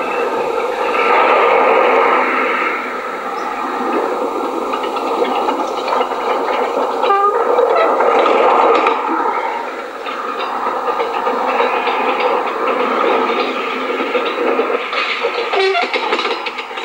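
The Train des Pignes rolls past steadily for a long stretch, its wheels clattering over the rails in a continuous rumble, with a couple of short sharp squeals or whistle-like bursts standing out along the way.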